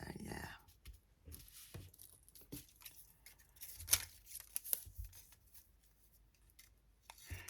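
Material cut for a candy cane wreath, with close scissor snips and rustling in short irregular bursts, a voice speaking faintly underneath.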